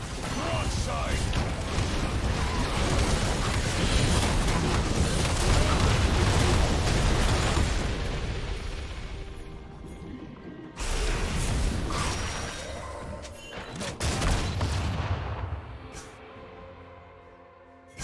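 Gangplank's Broadside cannon barrage in League of Legends sets off a dense, rumbling run of booming blasts. It tapers, then more explosive impacts crash in, mixed with game noise and voices.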